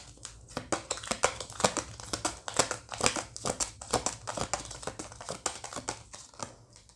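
Tarot cards being drawn and shuffled by hand, a close, busy run of crisp papery rustles and flicks with no speech over them.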